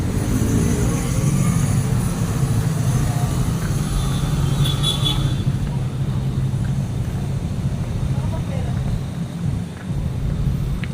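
Weekday street traffic in Makati, Philippines, rumbles continuously as a dense wash of engines and road noise, with a brief higher whine partway through.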